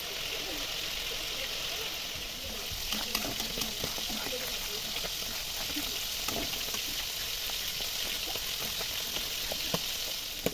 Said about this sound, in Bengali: মশলার থেকে সুন্দর তেল ছাড়তে শুরু করেছে, আমি আরও একটু কষাবো